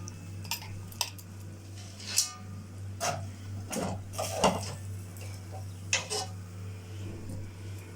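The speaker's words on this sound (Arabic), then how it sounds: "هشيل كده اللحمه بتاعتي واحطها بقى في الطاجن الكبير ده" Meat pieces being set down and turned inside a large tagine pot, giving scattered clinks and scrapes of metal and ceramic at an irregular pace over a steady low hum.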